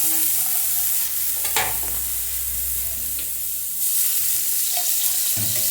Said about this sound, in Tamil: இந்த எண்ணெய் ஊற்றி நல்லா வதக்கிக்கலாம்.